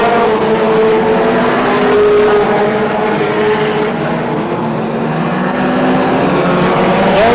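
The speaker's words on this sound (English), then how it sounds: "There's the checker, sort of takes it in 152 from Schutt in car number 30." Brisca F1 stock cars race at Northampton with a dense, continuous engine roar that stays loud and steady throughout, and several motors drone over one another.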